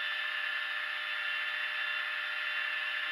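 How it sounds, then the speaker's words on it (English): Steady, continuous whir of a belt grinder running an 80-grit belt while grinding a knife bevel, a loud constant abrasive hiss with no breaks. "I'm going to go ahead and grind up to my 80 grit target at this position."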